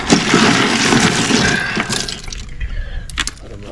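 Running water rinses slime off a freshly caught mudfish, a loud, close, continuous splashing rush that tapers and turns patchier toward the end.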